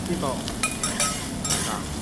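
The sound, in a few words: chicken steak frying on a teppanyaki griddle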